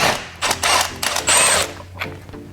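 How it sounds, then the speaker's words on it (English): A power tool undoes an 18mm crank pulley bolt, firing several loud, close bursts of rattling hammering, each roughly a quarter to half a second long with short gaps, then dropping off. "we're going to undo the main bolt for the crank, and that's an 18mm"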